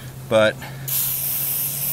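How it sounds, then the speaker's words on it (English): A flammable solvent is sprayed onto an old oil stain on a concrete driveway. A voice speaks briefly, then a steady, close aerosol hiss takes over and continues. "You gotta keep spraying since it's so flammable."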